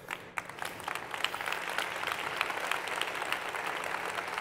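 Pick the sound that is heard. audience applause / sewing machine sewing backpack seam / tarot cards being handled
audience applause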